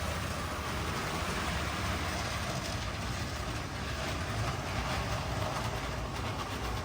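An HO scale model train locomotive strains to pull a line of cars, giving a steady, continuous mechanical rumble and whir with faint rail clicking throughout, no voices.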